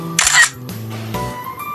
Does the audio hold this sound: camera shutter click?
yes